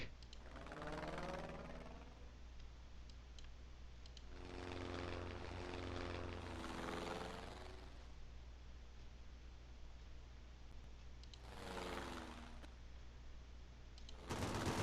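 A propeller aircraft engine in the Sid Meier's Ace Patrol: Pacific Skies video game drones continuously, with repeated swelling roars as planes pass close by.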